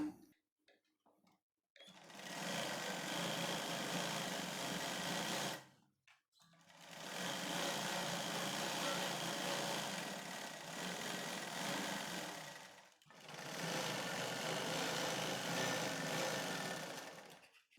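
An electric sewing machine stitches the neckline of a plain blouse in three long runs, each a steady whirring buzz, separated by short pauses of near silence.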